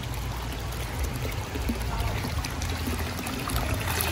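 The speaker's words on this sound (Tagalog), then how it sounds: "Umaagos pa rin yung tubig." Water flows and splashes continuously nearby, a dense steady rushing with no pauses and no voices.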